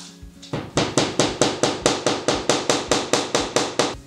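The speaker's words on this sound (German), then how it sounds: "hämmern wir das einfach auseinander." A hammer strikes a denim jeans seam in a fast, even rhythm, about fifteen sharp thuds in a row, close and loud with no talking.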